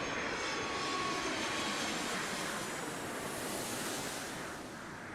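Steady roaring engine rumble of a Delta airliner taking off from runway 8 right at Atlanta airport, a broad, continuous, distant roar that holds level and fades slightly at the end.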